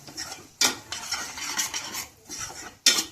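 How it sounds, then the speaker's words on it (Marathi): Spice masala of chilli powder and salt stirred and fried in oil for spicy rassa vada curry, with close scraping strokes and crisp sizzle, sharp utensil clinks at the start and end, no voices. "आता हे चांगलं तेल सुटेपर्यंत फ्राय करून घ्यायचं आपल्याला."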